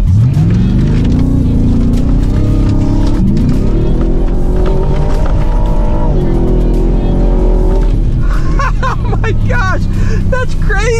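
A 700-horsepower Ford Raptor R pickup truck driven hard off-road, its engine roaring loud and close as it revs, climbs and drops through repeated surges, with tire noise and excited voices breaking in toward the end.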